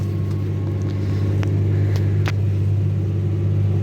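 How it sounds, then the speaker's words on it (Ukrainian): A tractor working slowly through deep winter mud in a low field, heard as a steady, loud, low engine drone and rumble that continues unbroken, with a few faint clicks and knocks over it and no talking. "трактор іде легенько"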